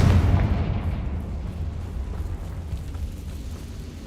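A Confringo fire spell bursts in the video game Hogwarts Legacy: one loud, deep booming explosion at the start, then a rumbling low tail that fades gradually over several seconds.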